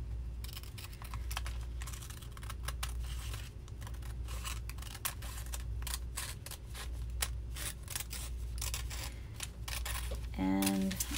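Scissors cutting out paper pages for a vintage traveler's notebook, a rapid series of close, crisp snips in uneven bursts, with a brief voice near the end.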